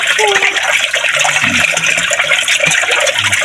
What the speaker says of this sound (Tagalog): Ganyan po mag-igib si Nanay Lilina mga kaipis.